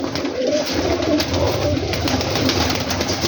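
Teddy pigeons coo steadily in a soft, continuous murmur of overlapping calls, close by and fairly loud, with no talking.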